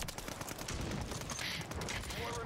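Sustained gunfire from a Rebirth Island video-game fight featuring the KAR98K rifle, rapid close shots and rattling bursts layered into a loud, steady clamor, with a faint voice now and then beneath it.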